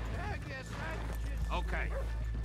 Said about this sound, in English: There's the dog again. The dog.